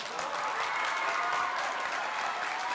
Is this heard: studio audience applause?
yes